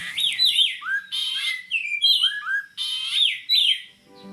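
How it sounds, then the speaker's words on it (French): Birds singing close to a window in Kinshasa, Congo: bright, varied chirps and sweeping whistled phrases come in several overlapping bursts, loud and near, with no talking. "Ici, près de la fenêtre, les oiseaux chantaient et me réveillaient tous les jours à 4h30 du matin."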